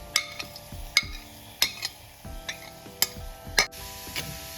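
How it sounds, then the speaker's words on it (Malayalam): Crushed onion and curry leaves fry with ginger, garlic and chilli for a Karimeen pearl-spot fish curry, a faint sizzle under repeated sharp metal spoon taps and scrapes against the pan. "അതിലേക്ക് നമുക്ക് ചതച്ച് വെച്ചിരിക്കുന്ന ഉള്ളി കറിവേപ്പിലയും ചേർക്കാം"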